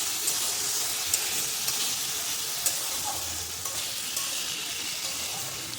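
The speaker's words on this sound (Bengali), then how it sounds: "নুন আর হলুদ দিয়ে আলুটা ভালো করে লাল করে ভেজে নেব।" Potatoes fry in a pan with salt and turmeric, giving a soft continuous sizzle and hiss with occasional small crackles, close by and without talk.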